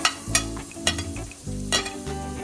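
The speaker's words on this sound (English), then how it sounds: "Fry for 1 to 2 minutes." Onion sizzles in a hot pan for millet noodle curry, with several clattering stirs of a spatula breaking up a steady low frying hiss, close and moderately loud.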